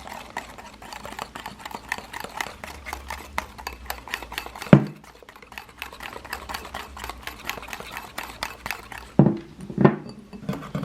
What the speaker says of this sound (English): start whisking it until it starts getting lighter